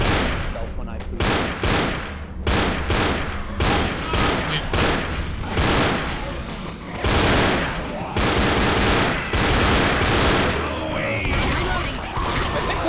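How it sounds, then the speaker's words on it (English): Gunfire in the zombie shooter Left 4 Dead, loud and close, with rapid bursts and single shots repeating in an irregular rhythm, dense and sustained across the stretch. "One of my bullets literally ricocheted off a zombie and hit me"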